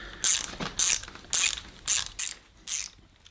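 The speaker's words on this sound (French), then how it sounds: "donc clé plate à cliquer de 13." A 13 mm ratcheting flat wrench turning a nut onto threaded rod, giving six sharp metallic clicking strokes in an even rhythm, close and clear with no talk.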